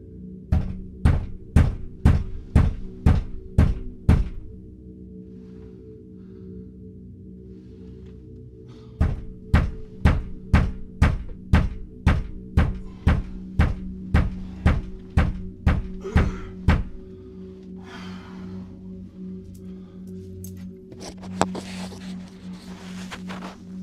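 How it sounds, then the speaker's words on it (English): A bedroom door is banged in two loud, rapid bursts of about a dozen heavy thuds each, separated by a short pause, followed by quieter rustling. "Just had some banging on bedroom door."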